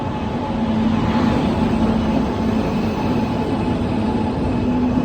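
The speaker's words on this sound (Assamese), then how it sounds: "ফাইনেলি ট্ৰেন আই পেলা" A train rolls into a station with a loud, steady rumble and metallic hum, wheels grinding continuously on the rails nearby.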